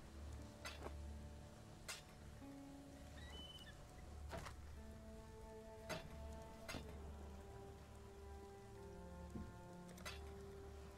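Steady rain patters on the ground in the Path of Exile video game, a soft continuous hiss with scattered sharper drops, heard alone with faint tonal game sounds underneath.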